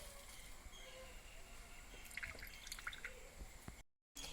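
Half a lemon's juice with herbs poured into a bowl for a homemade cough remedy, heard as faint, scattered drips and small splashes over a quiet background.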